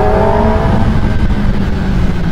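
A Kawasaki ZX10R motorcycle rides through city traffic, its engine a steady loud close drone with a brief higher tone early on and constant road noise throughout.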